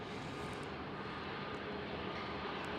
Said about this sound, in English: Nice wheelie, thrust reverser action, and nose gear touchdown.